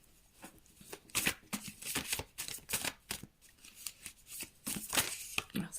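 Tarot cards being shuffled by hand, a brisk continuous riffle of papery slaps and rustles, close and moderately loud with no talking.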